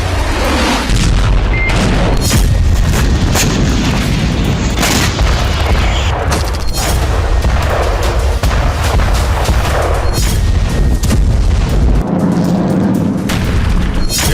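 Loud, heavy explosions from a military strike, deep booming blasts in quick succession with rumbling aftershocks, some sharp bursts like artillery or gunfire among them, continuous and close.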